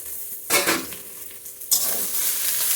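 Fried potatoes are tipped into a hot pan for a mochar dish with rice and lentil fritters, setting off two loud bursts of sizzling with stirring, each followed by a steady frying hiss.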